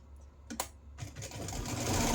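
A sewing machine stitches fabric for a fall leaf wreath pillow cover, starting with a couple of quick clicks and then building into a steady, faint, rising run of stitching.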